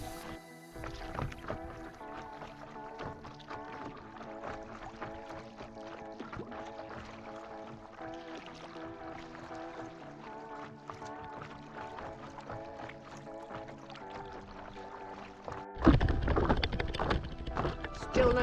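A paddle board is paddled across calm Lake Eacham, with soft rhythmic paddle strokes and water gurgles under a music bed, followed by a louder burst of wind and splashing near the end.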